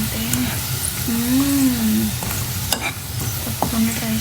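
Prawn masala curry is stirred in a pan, a close, soft sizzle with scrapes and small clicks, while a sustained tonal hum rises and falls over it in places.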